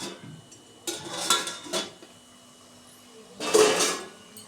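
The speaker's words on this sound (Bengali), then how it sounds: "এবার ঢাকনাটা খুলে দেখছি।" A pot lid lifted off a steamer of dhokla on a gas stove, giving a couple of metallic clanks and scrapes near the mic, then a brighter clatter later, with no talk.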